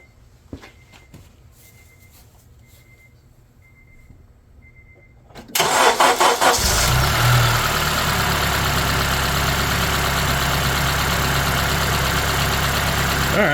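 A Honda Element's engine cranks and fires after several quiet seconds, flares briefly, then settles into a loud, steady, close idle that runs to the end.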